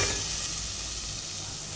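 Chicken curry with coriander powder, chili powder and chicken masala stirs in a hot pan, giving a loud, continuous, close sizzle with the scrape of a spoon mixed in.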